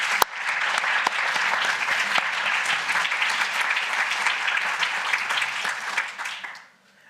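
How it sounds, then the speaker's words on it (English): Sustained audience applause at a translation prize ceremony, a dense steady clapping from a room full of people that carries for several seconds before tapering off. "A round of applause."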